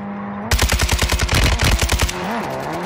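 Rapid automatic gunfire in an online shooter video game, a loud burst of evenly spaced shots lasting about a second and a half as the player comes under fire, then a quieter game background with no talking.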